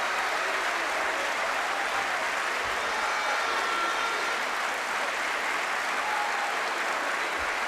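Appreciative crowd applause fills a judo Grand Slam arena in Tel Aviv after a golden-score final, a broad, sustained wash of clapping heard from a distance, steady and even for the whole stretch.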